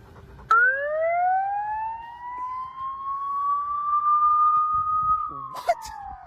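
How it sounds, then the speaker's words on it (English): A loud siren played through a park's speakers holds one long rising wail that climbs and levels off, then drops away at the end with a brief clatter. "Let's put sirens in their park?"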